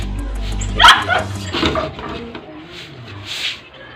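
A single sharp dog bark rings out close by, followed by softer yips and whines against a noisy background.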